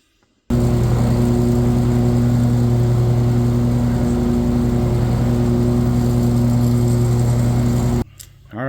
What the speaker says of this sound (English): So I'm going to get to mowing grass.